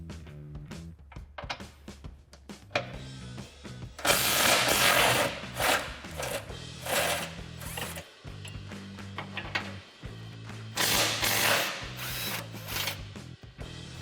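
A ratchet with an 18 mm socket works loose the skid plate bolts on a Jeep Gladiator JT, giving close, rapid clicking runs broken by short pauses and louder bursts of turning, with no voices.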